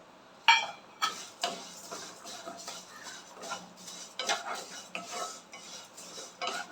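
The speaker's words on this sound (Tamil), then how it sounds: "இந்த நெய்லயே சேமியா வறுத்து எடுத்துக்கலாம்" Semiya vermicelli roasts in ghee for paal payasam as a spoon scrapes and taps the pan in quick, irregular strokes, with a faint sizzle beneath and no talking.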